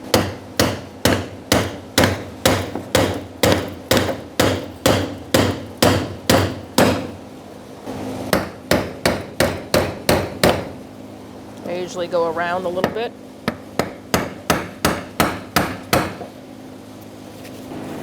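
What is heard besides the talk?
tapping Ford Expedition fuel pump lock ring with brass tap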